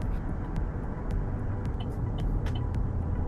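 A car rolls slowly through a residential neighborhood in Jordan, its steady engine and road rumble close and continuous with a few faint clicks and no talk.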